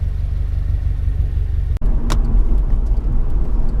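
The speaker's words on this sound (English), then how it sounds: "this is just some normal driving I'm doing here" A 2015 Subaru WRX is driven normally, its engine a loud, steady rumble from inside the car, with a brief dropout and then a short clunk before the drone resumes.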